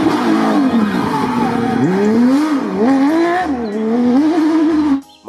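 A race car's engine whines loudly, its pitch climbing and dipping through several revs for about five seconds before cutting off abruptly.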